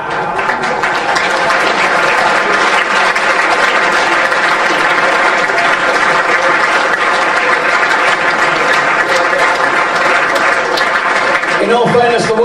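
A large audience at an end-of-season football club awards ceremony breaks into loud, sustained applause, dense clapping with no break throughout.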